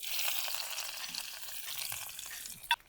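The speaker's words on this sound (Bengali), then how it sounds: "রসুন কুচিগুলো দিয়ে দিচ্ছি।" Chopped garlic fries in oil in a kadai, giving a steady, quiet sizzle throughout with a sharp clink near the end.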